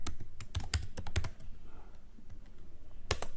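Someone types C code on a computer keyboard, producing clusters of quick, close, crisp key clicks with a brief pause in the middle and another short burst near the end.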